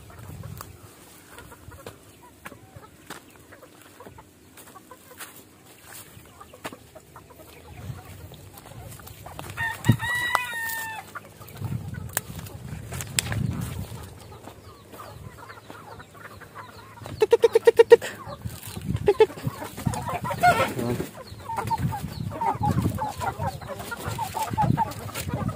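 Pet chickens of the Basilan breed cluck and chatter around a yard, and partway through a rooster crows once clearly; the sounds are moderately near, with low rustling and background noise throughout.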